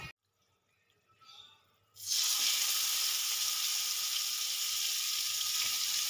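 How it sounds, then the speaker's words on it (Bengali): Marinated chicken dropped into hot oil bursts into a loud, steady sizzle after a quiet opening of faint kitchen clatter, the frying continuing strong and close for several seconds. "এবার আমি চিকেনটা তেলের মধ্যে দিয়ে দেব"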